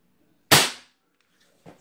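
A single sharp crack from a stock Crosman 1322 air pistol firing through a chronograph, close and loud, decaying quickly, followed by a faint second click.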